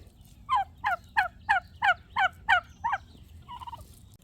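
Pet white domestic turkeys gobble in a rapid series of about eight evenly spaced, warbling calls, fairly close and moderately loud, followed by a softer, shorter call.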